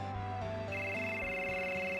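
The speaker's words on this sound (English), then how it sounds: "Oh, we got a cell phone?" A cell phone rings in the video game Final Fantasy VII, a short electronic melodic ringtone with stepped tones, moderately loud and alone without speech.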